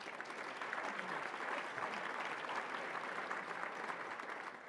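An audience at an awards luncheon applauds in a sustained, even wash of clapping, faint and distant, continuing without a break.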